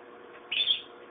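A pet bird named Jocko lets out one brief, high call, faint and somewhat distant, over a quiet background with no talking.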